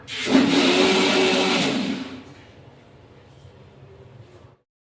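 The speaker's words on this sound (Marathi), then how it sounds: "याची आपण आता मिक्सरला लावली बघा" A kitchen mixer grinder whirs loudly at full speed, blending refrigerated milk cream for homemade ghee, then stops abruptly and leaves a faint low hum trailing off.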